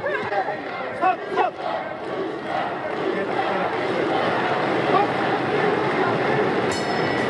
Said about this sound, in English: the crowd are all for the Dutch woman